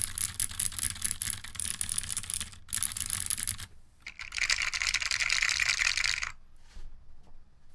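Keystrokes on a mechanical keyboard with linear switches in a resin case, a dense run of fairly close clacks with two short pauses, loudest in the middle stretch and tapering off near the end.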